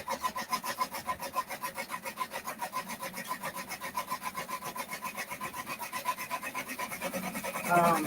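A Brother embroidery machine stitches a design onto a backpack, its needle tapping in a fast, steady rhythm at close range, with a fan humming in the room.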